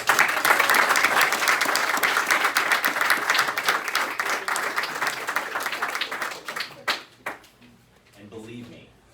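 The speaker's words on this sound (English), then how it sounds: "You all deserve a big round of applause for all the work you do." A crowd at a San Diego library's 50th anniversary celebration applauds loudly for several seconds, the clapping thinning out to scattered claps before a voice resumes speaking.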